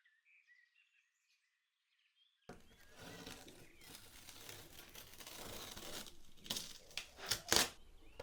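After a couple of seconds of near silence, tape is peeled from a watercolor and gouache painting with close, dry crinkling and tearing that builds into a few louder rips.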